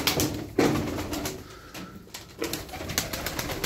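A pet pigeon gives soft, low coos close by, a few murmured calls rising over quiet background rustle and faint shuffling, with no one speaking.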